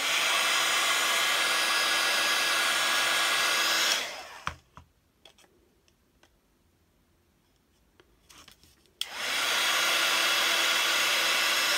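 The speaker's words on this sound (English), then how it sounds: "some of you may not have used a heat gun before" A heat gun blows steadily and loudly for embossing metal-framed round craft tags, cutting off for a few seconds of quiet handling clicks before roaring back on at full strength.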